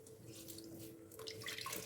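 Water squeezed from a wet kitchen towel splashes and trickles into a sink, a steady soft pouring that grows louder and splashier toward the end, with no voices.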